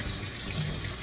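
Tap water runs steadily into a sink while raw chicken is rinsed, a continuous close splashing wash for about a second.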